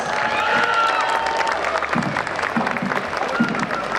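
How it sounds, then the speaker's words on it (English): Audience applause for a sisters' performing act at a Ukrainian festival in Toronto, a steady dense wash of clapping and crowd noise filling the whole stretch, with faint voices mixed in. "let's give them a round of applause."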